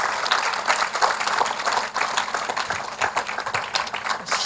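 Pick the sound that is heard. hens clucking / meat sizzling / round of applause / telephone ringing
round of applause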